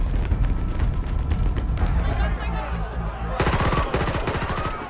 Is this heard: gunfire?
yes